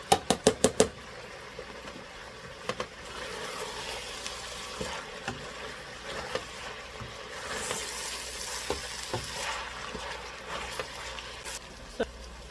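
Onions and green onions frying in a pan, opening with a rapid burst of four or five sharp knocks, then a soft ongoing sizzle dotted with occasional clicks and scrapes.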